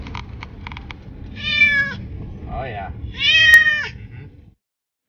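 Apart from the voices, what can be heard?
cat meowing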